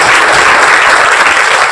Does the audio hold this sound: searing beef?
no